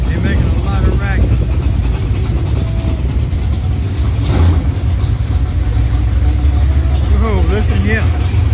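Engines of classic cars cruising the coast at Bay St. Louis rumble steadily and loudly throughout, with a passing vehicle swelling near the middle, under a constant roar.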